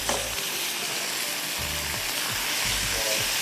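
Garlic and mustard oil sizzling steadily in a pan while a utensil scrapes and stirs in several short strokes, close and busy.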